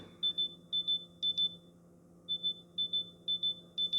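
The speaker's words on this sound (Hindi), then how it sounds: "तो इस तरीके से एक हाई पिच वाला साउंड जो है ना आपके ईयरफोन पे प्ले होगा" High-pitched find-my-earbuds alert from OnePlus Nord Buds 3r earbuds: clusters of short, piercing beeps repeating in a steady pattern over a low background hum, with a brief pause midway.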